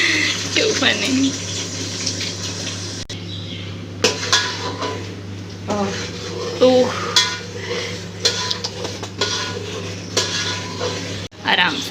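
Metal utensils scrape and clink against a pan while ginger and garlic paste is stirred, irregular clattering strokes over a steady hum, with people talking throughout.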